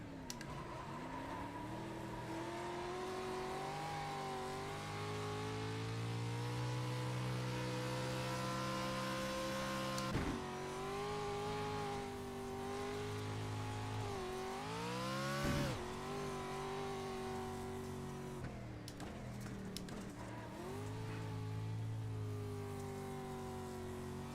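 A race car engine in a sim racing video game revs and shifts continuously, its pitch climbing and dropping through gear changes and corners, with sharp downshift blips around the middle and a steady drone throughout.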